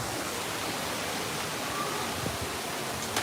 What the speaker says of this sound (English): So they had this amazing waterfall